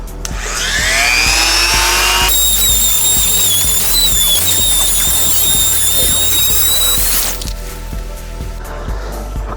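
A power tool grinds a JDM headlight housing to shape on a Honda FD2, a loud high whine with rising and steady pitch, close up and then cutting off, with no talking.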